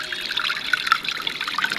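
Storm water trickles and flows through drainage at a plumbing site, a close, steady bubbling rush of running water with no talk.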